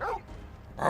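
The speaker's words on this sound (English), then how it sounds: "That's my dog." A dog barks in the Final Fantasy XVI video game, two short yapping bursts at the start and end of a brief moment, with a person briefly exclaiming between them.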